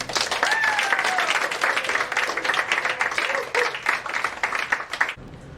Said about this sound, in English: Let's give another big round of applause to Dr.